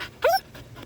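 A dog lets out a single high, thin whine, close by, followed by faint panting-like breaths.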